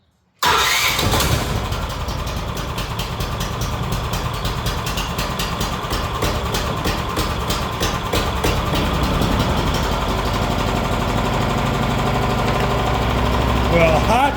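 A small engine cranks over and catches after the choke is set, then keeps running at a steady, loud idle with a rough rattling pulse close to the microphone.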